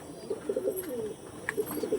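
Pigeons coo softly in a repeating low, throaty rhythm, several short burbling calls close by with a faint chirp mixed in.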